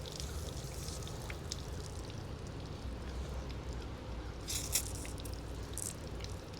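Water running out from below an old Evinrude 50hp outboard motor that sat unused for years, a faint steady trickle and patter with a couple of brief louder splashes.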